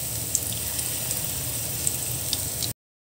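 Pakoras frying in oil give a steady, close sizzle with small crackles and pops, continuous for a few seconds before cutting off abruptly.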